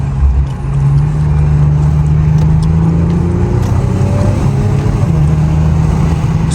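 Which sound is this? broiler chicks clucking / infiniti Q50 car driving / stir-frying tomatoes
infiniti Q50 car driving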